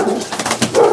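A pigeon of an old breed coos close by in a short, soft, throaty burst that rises toward the end, with no voices present.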